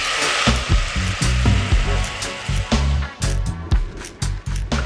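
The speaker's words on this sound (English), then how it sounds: "To glaze the pan with some vegetable stock." Vegetable stock sizzling and spitting as it hits a hot pan to glaze it while cooking curry, a loud crackling hiss with repeated bursts and clatters, no talking.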